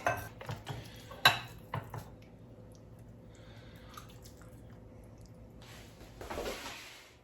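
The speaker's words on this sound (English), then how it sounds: "We are going to take a giant scoop and see how it is." Spoon clinks and scrapes against a pot as a big scoop of Flamin Hot Doritos mac and cheese is lifted out, a few sharp taps early on, then quieter shuffling and a final soft scrape.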